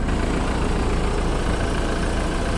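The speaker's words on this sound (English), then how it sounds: "Got the AC running." A BMW F30 with the N20 engine idles with the air conditioning running, making a loud, steady, even engine drone with a dense broadband hum and no talking.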